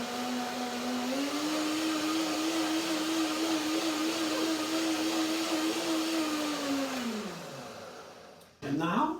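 A blender runs steadily to purée a cashew dressing with cilantro stems, its motor holding a loud even whir before spinning down near the end, followed by a brief clatter.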